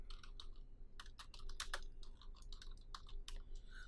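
Typing on a computer keyboard: quick, irregular bursts of close, crisp key clicks with brief pauses between words, alone over a faint low hum.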